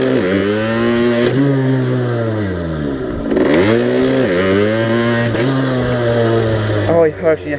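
A moped engine revving hard during wheelie attempts, repeatedly climbing and dropping in pitch in several loud surges, close up, with wind noise toward the end.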